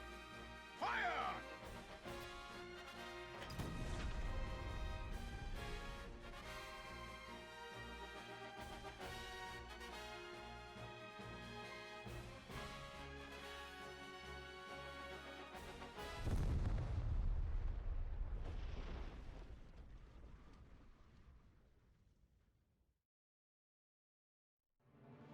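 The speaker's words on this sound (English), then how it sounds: "A peal of cannon fire washes over the sandy wastes, and is answered by the crumple of steel and stone." Cannon fire blasting a stone shield in the video game Triangle Strategy: two heavy, rumbling booms several seconds apart over sustained orchestral battle music, with the second impact swelling before the music fades out.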